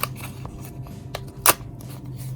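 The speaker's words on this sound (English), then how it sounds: "So I'm going to cut off the top part of the sticker." Scissors cut off the top part of a paper planner sticker, a few soft snips close by, ending in one sharper crisp cut.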